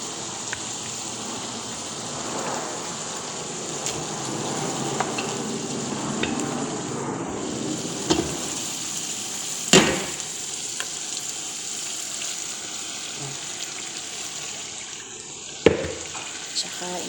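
Meat dropped into a hot pan with onions, garlic, ginger and tomato, sizzling and frying steadily throughout, with a few sharp clatters of stirring close by.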